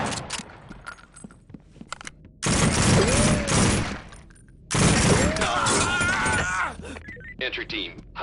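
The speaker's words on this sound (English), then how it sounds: "These idiots are shooting each other." Bursts of automatic gunfire rattle through a SWAT 4 firefight in two long, loud volleys, with scattered shots and impacts between them and a voice heard briefly.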